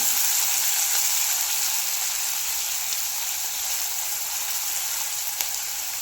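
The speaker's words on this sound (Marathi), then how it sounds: "आता कांदा पूर्ण तीन होईपर्यंत आपल्याला परतून घ्यायचा आहे" Chopped onion sautéing in a pan of roasted cumin for a Marathi masoor dal, a steady close, even sizzle with a bright hiss, unbroken for the whole stretch and carrying no voices.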